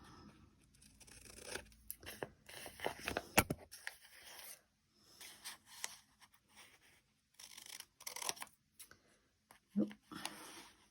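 Paper being cut with scissors while making journalling envelopes, with intermittent snipping, rustling and tearing bursts of moderate loudness separated by short quiet pauses.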